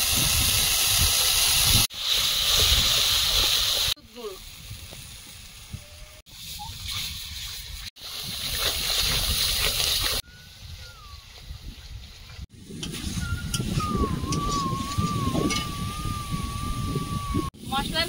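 Loud hissing sizzle of grated tomato hitting hot oil with frying spices, a broadband steamy crackle in several bursts separated by quieter stretches, with faint background sounds.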